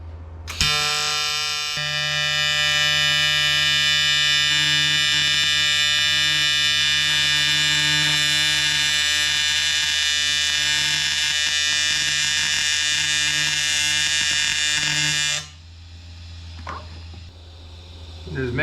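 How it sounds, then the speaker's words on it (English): TIG-style welding on a porous aluminum turbo oil drain and supply bulkhead for an LS engine, a loud steady electric buzz with a constant hum that holds for about fifteen seconds, then cuts off abruptly. "All right, let's get to welding around this guy."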